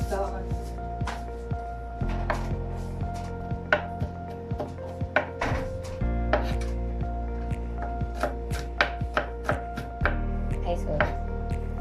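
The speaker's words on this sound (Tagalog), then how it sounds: "Hirap palang dikdikan ng bawang." Garlic is pounded in a mortar and pestle, a steady series of sharp rhythmic thuds close by, with voices present throughout.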